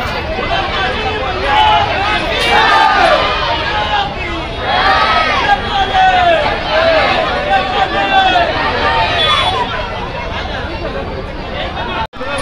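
A dense crowd of devotees gathered for Navratri darshan of Mahakali at Gadaphatak in Jabalpur, a loud continuous hubbub of many overlapping voices and chatter close around, steady throughout with a brief drop near the end.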